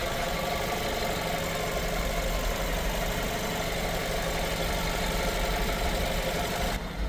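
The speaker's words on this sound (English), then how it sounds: "Engines running in the background, as you may be able to hear." A BMW 3 Series Touring 320i automatic petrol engine idles steadily, a continuous even hum with a faint rhythmic tick, heard alone at moderate volume.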